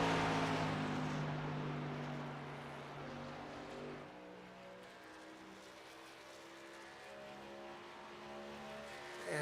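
Race trucks in an iRacing truck series roar down a backstretch, a loud engine drone that fades and shifts pitch as the pack passes, with no voices.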